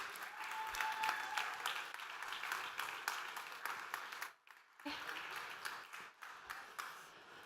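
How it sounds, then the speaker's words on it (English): A conference audience applauds panelists with steady, full clapping that briefly drops out, then resumes at a similar level, with faint voices mixed in. "can you give one more round of applause, this time for the panelists as they come on up?"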